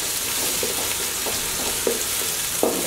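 Ginger paste frying in oil for beef tehari, a close, continuous crackling sizzle, with a few soft scrapes from stirring and no voices.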